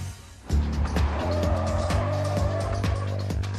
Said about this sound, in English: This causes the rear wheels of the suspect to lose traction, resulting in a spin-out.